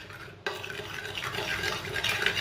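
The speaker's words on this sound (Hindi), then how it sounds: "दोनों चीज़ों को भी साथ में मिक्स कर लेंगे।" An egg, salt and baking powder are stirred into naan dough in a bowl, giving close, continuous wet mixing and scraping with a few soft clinks.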